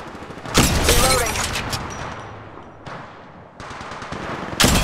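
Rapid gunfire from the Apex Legends Mobile video game, loud and close, coming in several dense bursts broken by brief pauses, the last burst kicking in right at the end.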